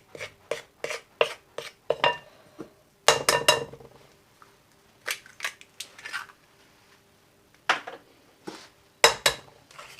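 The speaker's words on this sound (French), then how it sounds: "on commence à mélanger en ramenant petit à petit la farine vers le centre de notre saladier" A whisk or spoon knocks and scrapes in a bowl as eggs are worked into flour, cornstarch and sugar, giving irregular bursts of clinks and taps with short pauses between them, close and fairly quiet.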